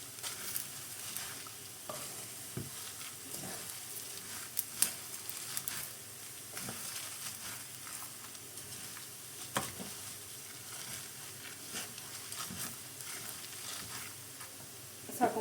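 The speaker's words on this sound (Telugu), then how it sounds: "ఒక 10 వెల్లుల్లిపాయ రెబ్బలు ఇవి కూడా వేసుకుని ఫ్రై చేసుకోవాలి ఇందులో." About ten garlic cloves sizzle gently in a pan while being stirred, with soft scraping and crackling for a curry leaf spice powder; the frying is faint and steady throughout.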